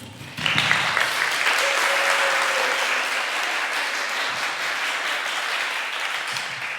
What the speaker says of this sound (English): So give yourselves a big applause because you're here today.